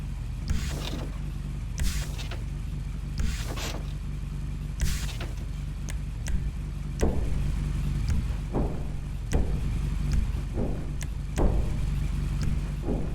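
GTA 5 vehicle garage menu sounds, hydraulic and hood-opening effects: a series of brief mechanical clunks and whooshes repeating about every second or two over a low steady engine hum, with no talking.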